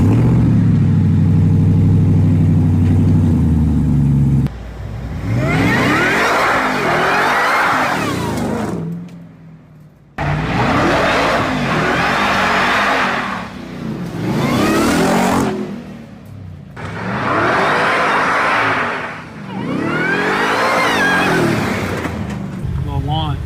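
A Ford Raptor R pickup's engine fires up, then revs hard in repeated loud sweeping bursts with short lifts between them, close by and dominating, with some voices mixed underneath.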